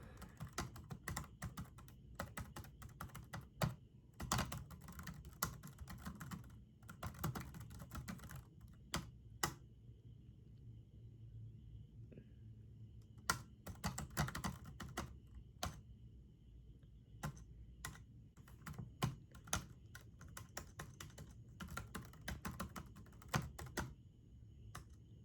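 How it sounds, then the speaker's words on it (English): Quiet bursts of typing on a computer keyboard, close and soft, clustered keystroke runs separated by short pauses, with no talking. "I'll type some things and then I'll give you the total."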